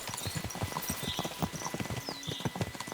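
Rapid clip-clop of a horse's hooves in the game Kingdom Come Deliverance 2, a brisk, close, even rhythm of hoofbeats running throughout, with no talk.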